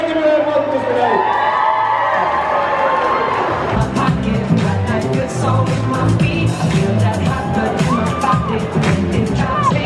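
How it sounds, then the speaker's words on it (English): Crowd at a hot dog and Italian ice shop grand opening cheering, whooping and applauding, a loud mix of voices and claps that swells after an opening stretch of chatter and music and keeps going. "give me a round of applause for tonight"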